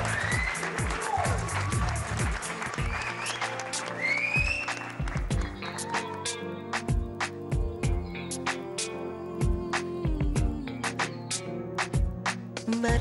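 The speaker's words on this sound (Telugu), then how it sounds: "సో గట్టిగా ఒకసారి చప్పట్లతో వెల్కమ్ చెప్పేద్దాం మహి అండ్ ఐశ్వర్యకి" A TV show audience claps to welcome a couple on stage. Scattered, uneven claps and taps sound over a bed of music.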